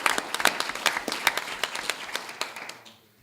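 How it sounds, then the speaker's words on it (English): Applause at a school board meeting, a modest group clapping with distinct individual claps in an uneven patter that trails off quickly near the end. "so let's give him a big round of applause."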